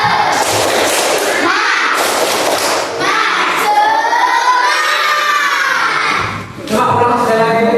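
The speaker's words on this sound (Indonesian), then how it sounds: "Coba ulang sekali lagi. Tepuk semangat." A group of children in a classroom does the 'tepuk semangat' spirit clapping chant, with loud, continuous shouting voices over thumping claps that stay dense and energetic throughout.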